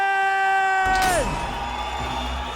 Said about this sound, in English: you can hear the crowd for Nick Chapman as he makes his way to the cage